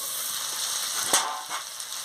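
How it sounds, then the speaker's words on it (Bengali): Turnip pieces fry in a pan with a steady bright sizzle, broken by a sharp stirring clatter near the middle and a few softer scrapes. "আমি একটু ভালো করে ভেজে নিচ্ছি"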